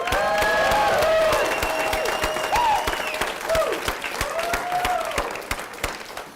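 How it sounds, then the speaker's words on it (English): Audience at a training event applauding, a broad sustained round of clapping from many people, strongest at the start and gradually thinning, with a few voices and a cheer rising over it. "So give yourselves a round of applause for that."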